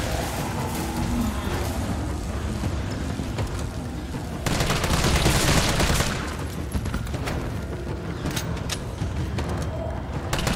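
Gunfire in the video game Resident Evil 3, a dense, continuous barrage of rapid shots and booming blasts at close range, swelling louder midway and running throughout.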